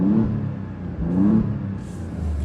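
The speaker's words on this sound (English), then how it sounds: "it does sound very good in race. I'm going to leave it in race just so we can get a bit of exhaust now." A 2020 Alfa Romeo Giulia Quadrifoglio in race mode revs hard, its engine and exhaust swelling in two rising pulls, loud and close with a raspy exhaust note.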